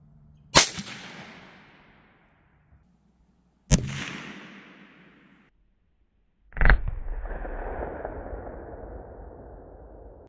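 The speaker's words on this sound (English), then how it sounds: "I pulled it slightly to the left when I shot." Three sharp, loud .22 WMR rifle shots with CCI Maxi Mag and Federal rounds fired into ballistic gel at a range, each a sudden crack with a decaying tail, spaced a few seconds apart outdoors.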